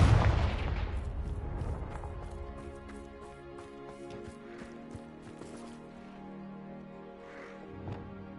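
A Confringo blast spell bursts in Hogwarts Legacy, with a loud booming explosion at the start that decays into a rumbling, ringing tail and scattered clatter over several seconds.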